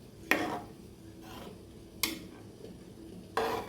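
Seeraga samba rice, washed and soaked half an hour, is stirred in a pot of boiling water for ghee rice: three distinct scraping stirs with quiet bubbling between them, close and alone.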